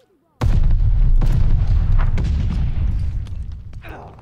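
A satchel charge explosion in a Call of Duty video game, one sudden heavy blast after a brief silence, followed by a deep rumbling boom that slowly tails off.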